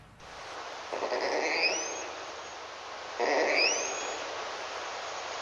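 A grumpy male bat gives a social call while trying to mate, heard as two separate rising, swooping chirps over steady background hiss, each a short upward sweep, spaced about two seconds apart and fairly faint.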